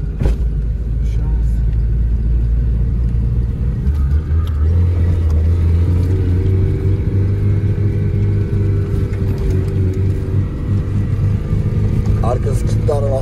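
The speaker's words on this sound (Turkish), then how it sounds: "Arkası kilitli araba harbi sekiyor ya." A Tofaş car with a locked rear differential drives with a steady, loud engine rumble and rising revs, heard from inside the car while people talk over it.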